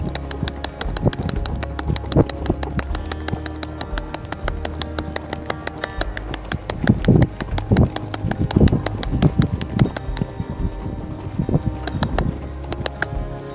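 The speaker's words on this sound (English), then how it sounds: "When I'm asking this horse to pick up the lope from the trot" A horse loping and trotting around a round pen under a trainer's direction, hooves falling in a steady rhythmic clip-clop over continuous low background rumble, with occasional heavier footfalls and scattered bird calls nearby.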